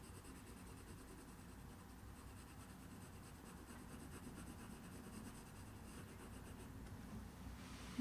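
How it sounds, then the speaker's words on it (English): Colored pencil shading an eyelid on paper with light pressure, a soft steady scratchy rubbing that runs continuously and faintly, with no talk. "So just using a light pressure on the pencil."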